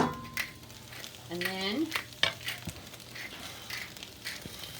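Onions frying in a pan give a soft, steady sizzle with occasional scraping and stirring clicks, close and fairly quiet, while a person speaks briefly.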